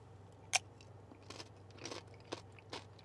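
Soft, close chewing on Chipotle queso with chips, a sharp crunchy bite at first followed by a few quieter mouth sounds, without talk.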